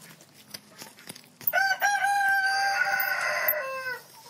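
A chicken held on a farm lets out a loud, close, strained crowing squawk lasting a couple of seconds, after a few quieter clucks and handling rustles.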